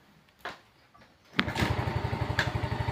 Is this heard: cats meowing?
no